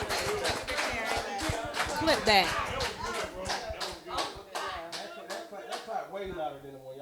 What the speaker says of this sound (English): let's applaud my bro